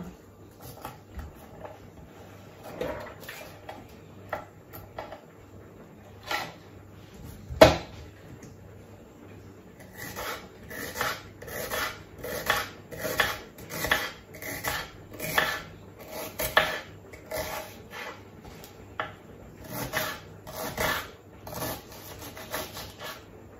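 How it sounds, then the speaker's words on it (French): A kitchen knife chops an onion on a cutting board, starting with a few scattered cuts and then a steady run of close, crisp chopping strokes, with no talk. "Il coupe vraiment très bien ce couteau."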